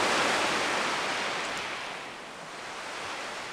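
Seashell held to the ear, giving the hushed roar of ocean surf on the shore: a continuous airy swish that eases slightly midway and rises again, heard alone.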